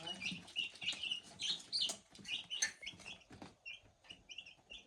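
Small chicks in a village yard peeping and chirping in quick, busy bursts while being hand-fed wheat grain, fairly close and soft, with faint pecking patter beneath.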